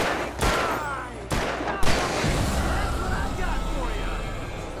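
Gunfire in Alan Wake Remastered: a few sharp, loud shots that punch through dense, busy game noise and a steady rumble, with voices talking throughout.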